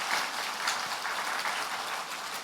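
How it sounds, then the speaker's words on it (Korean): A church congregation applauds during a Sunday worship service, a brief even patter of many hands clapping at moderate volume with no voices over it. "큰 박수로 축복하겠습니다."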